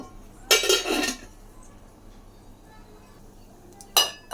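Spoon clinking against a pot while stirring tomato rasam after sugar is added, two short bursts of metallic scraping close by, separated by a quiet stretch.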